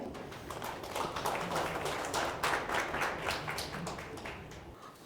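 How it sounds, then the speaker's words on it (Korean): Audience applause welcoming a speaker at a law firm's ESG seminar session, a soft, steady patter of many hands clapping that sounds somewhat distant and stays even throughout. "큰 박수로 맞이해 주세요"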